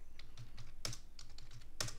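Clicks of a computer keyboard as values are typed into Excel spreadsheet cells, a close, fairly quick run of keystrokes with a couple of louder key hits, no speech.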